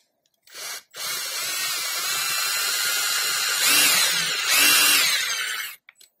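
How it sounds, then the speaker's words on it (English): A drill bores a first hole with a drill bit, a short test burst followed by a sustained high whine that strains louder twice before stopping, close up with no talk. "we're just going to drill our first hole"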